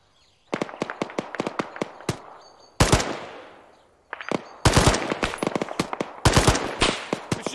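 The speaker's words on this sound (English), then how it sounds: "Machine gun, 200 meters, front!" Machine gun fire in the military game Arma rattles in rapid, loud bursts of sharp reports. Short pauses separate the bursts, and a booming crack with a long decaying tail rolls in mid-stream.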